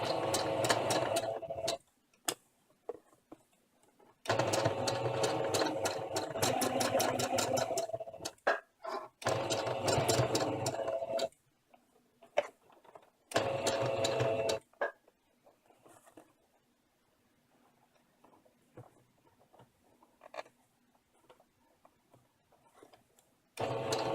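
A sewing machine fitted with a full circle darning foot stitches decorative ribbon, running in loud rapid bursts of needle chatter that stop and start, with quiet pauses and faint handling clicks between runs.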